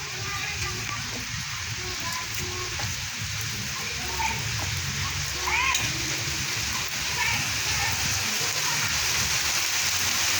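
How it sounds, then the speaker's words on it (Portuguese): Heavy rain falling steadily in the hill country of the Brazilian northeastern backcountry around Serra Talhada, a dense broadband wash that stays constant throughout, with a few faint voices in the background. "Chuva grossa."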